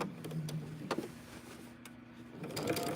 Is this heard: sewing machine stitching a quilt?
yes